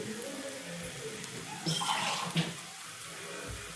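Water splashes and trickles into a pan of egg gravy for a couple of seconds, a soft pouring sound with faint kitchen noise around it.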